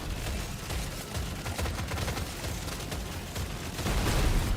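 Deep Rock Galactic in-game explosions and gunfire roar in a dense, loud, continuous barrage of crackling blasts that swell louder toward the end.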